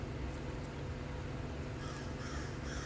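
Crows cawing outdoors in the morning, several harsh calls spread across the clip over a steady low rumble of background noise.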